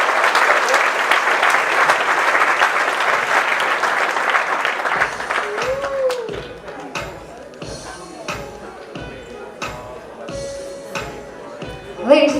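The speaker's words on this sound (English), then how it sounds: "one more big round of applause to our maid of honors" Wedding guests give a loud round of applause at a reception, dense clapping for about five seconds before it thins into scattered claps, with voices and a short whistle-like tone underneath.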